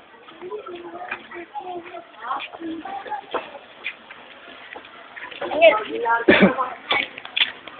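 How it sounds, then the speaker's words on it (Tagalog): Pigeons coo in soft, rhythmic murmurs while people talk nearby, with a throat-clear or cough near the end. "Daming kalapati."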